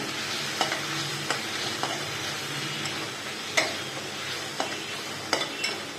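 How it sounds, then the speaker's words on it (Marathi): Asafoetida and turmeric sautéing in hot oil in a pan, a soft continuous sizzle with scattered sharp ticks and clinks of a spoon stirring at irregular intervals, close and without talk. "चिमूटभर हिंग टाकतोय थोडीशी हळद आणि परतवून घ्यायचं आहे चांगलं"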